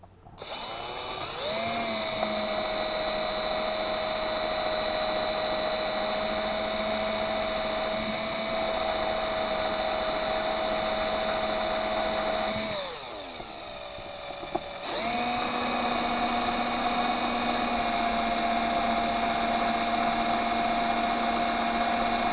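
A power drill drilling metal on a Holden HR ute carburettor whines steadily at close range, its pitch dipping as it briefly slows and pauses, then spinning back up and grinding on continuously.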